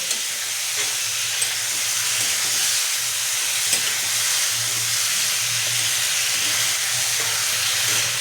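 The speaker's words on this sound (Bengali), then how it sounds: "সয়াবিন, আলু সব দিয়ে দিলাম। এবার সুন্দর করে এটা কষিয়ে নেব" Soybean chunks and potatoes sizzling and frying in a pan, a loud continuous hiss with faint stirring scrapes, close and steady throughout without talk.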